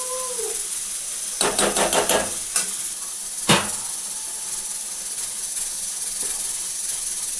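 Water hits hot spiced masala in a pan, giving a sharp burst of crackling sizzle followed by a single loud hiss, then a quieter steady simmer.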